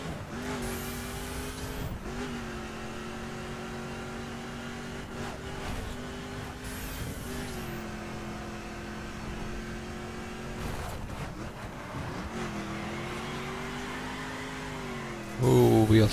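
Video game 1969 Dodge Charger R/T HEMI engine roaring through repeated gear-change climbs, with tire squeal from wheel spin and a person talking over the steady, loud drone.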